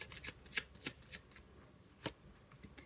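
Tarot cards are shuffled close by, a faint riffling patter of soft papery flicks over about three seconds.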